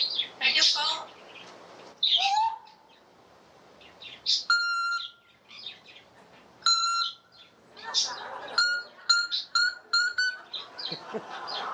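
A pet parrot chatters in short bursts of mimicked speech, with bright whistles and electronic beeping tones like answering-machine noises, all close and fairly loud.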